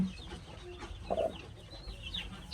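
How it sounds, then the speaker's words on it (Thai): A brooding hen sitting on her first clutch of eggs, feathers puffed, makes low guttural warning growls and clucks at close range, with a sharper burst partway through over a soft farmyard background. "นี่คือพฤติกรรมที่เขา ขู่คำรามนะคะว่าอย่าเข้าไปใกล้เขาอย่าเข้าไปในพื้นที่ของเขาค่ะทุกคน"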